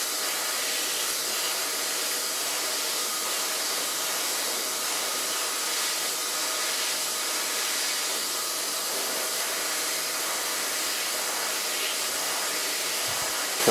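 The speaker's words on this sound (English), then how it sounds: "blow drying with a medium brush and creating as much volume as I can" Hair dryer blowing steadily while hair is styled with a medium brush for volume, a continuous close hissing whoosh with no pauses and no talking.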